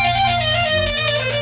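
A flute played through guitar effects pedals gives a dense, buzzing, harmonically rich sustained tone, steady and loud, with no talking.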